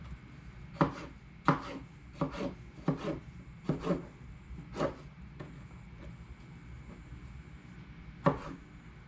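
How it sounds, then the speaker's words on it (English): A knife chops tomato and onion on a cutting board in about eight crisp, close knocks, spaced unevenly with short pauses and a longer gap near the end, with no talk. "So let's get these guys all finished cut up. Tomato, get some onion."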